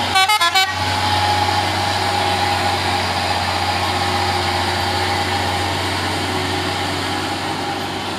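A Hino 6x2 truck on a hill road sounds a few short horn blasts, then its diesel engine drones steadily and loudly as it labours uphill, with a constant low rumble and a faint whine above it.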